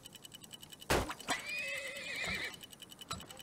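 A horse neighs loudly in the Turmoil oil-drilling simulation game, one long shrill whinny with a sharp onset and wavering pitch, a soft clip-clop before and after it.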